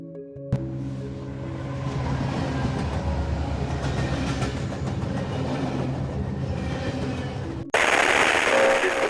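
A train rumbles past with rhythmic clickety-clack of wheels on rails, steady and fairly loud, ending in an abrupt cut to a hissing noise.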